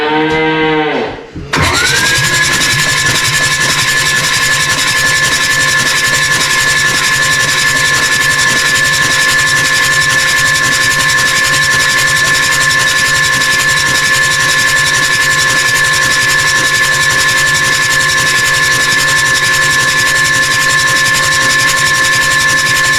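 A John Deere 3130 tractor engine with its injectors removed cranks over on the starter, a loud, steady, droning churn that runs unbroken for over twenty seconds after a brief start.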